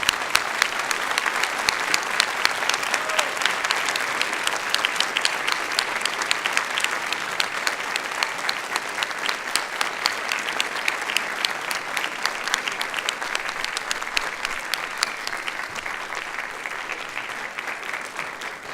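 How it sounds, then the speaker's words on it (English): A large audience at a university doctoral hooding ceremony applauds spouses, families and friends, a dense, steady wash of clapping that carries on for nearly twenty seconds at an even, loud level before tapering slightly near the end. "join me in applauding your spouses, families, friends, and loved ones for their support on your journey to this day"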